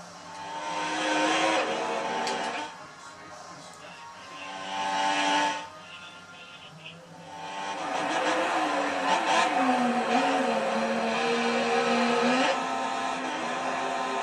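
Formula 1 cars in a racing video game at the Malaysia circuit, their high engine whine rising and falling as they race to the finish line, with a quiet gap before another car screams past.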